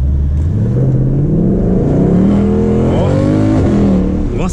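A Ford Mustang GT with a 5.0 engine accelerates hard from close by, its loud V8 roar climbing in pitch through gear changes, on a rainy road.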